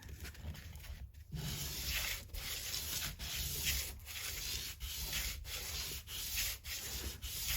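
Steady back-and-forth strokes of sandpaper on the wooden neck of a Taylor Baby guitar during a neck reset, a close, quiet rhythmic scratching with regular short pauses between passes.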